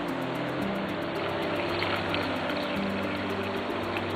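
Hot water is poured into a cup of guayusa tea, giving a steady, unbroken hissing rush of liquid that stays even in level from start to finish, close by and with no one speaking.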